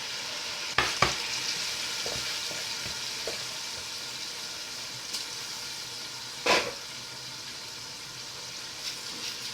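Washed rice tipped into leftover stew for jollof rice, a faint soft sizzle broken by a few sharp pours and clattering stirs in the pot, with no one talking.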